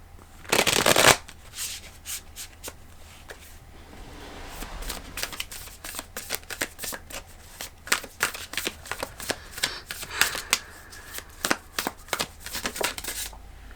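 Tarot cards shuffled close by, starting with a loud riffle burst and then a long run of rapid, irregular flicks and slides as the deck is mixed.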